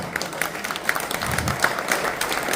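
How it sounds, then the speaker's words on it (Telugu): An audience at a reunion gathering of old school friends claps steadily, many hands close by forming a dense, even applause with a few sharper claps standing out. "give the claps"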